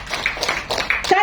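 A group of adult trainees claps together in a counting game at a small-business training session. Several quick, sharp claps land close together over a short burst, with voices mixed in.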